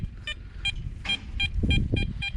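Short electronic beeps from a metal detector repeat in a steady pulse, about one every half second, with soft rustling and scraping underneath; the target is a piece of aluminium sheet.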